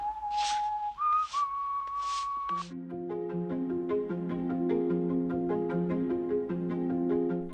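A cleaner whistles a theme in a clear, solo melody of a few sustained notes, and then sustained music takes over.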